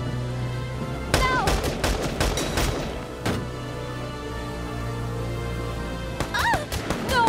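Gunfire from the video game Valkyria Chronicles 4: a burst of sharp, closely spaced shots, a lone shot a moment later, then another quick cluster, all loud over a steady low battlefield hum with music-like tones.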